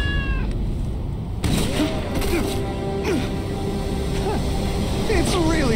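In the video game Loopmancer, a cat meows a few times over a dense, steady game soundscape, the mewing calls rising and falling in short bursts.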